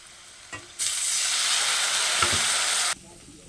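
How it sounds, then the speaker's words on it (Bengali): Spices and a splash of water hit frying onions in a hot pan for a Bombay duck fish curry, a sudden loud sizzling hiss that holds steadily for about two seconds, then cuts off. "এখন আমি বাদ বাকি মশলাগুলো দিয়ে দেবো, আর দিয়ে দেবো সামান্য একটু জল"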